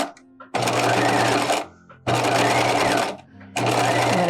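A sewing machine understitches around a bodice neckline over clear elastic in three close, loud bursts of rapid needle whirring, each about a second long, separated by brief pauses with faint handling sounds.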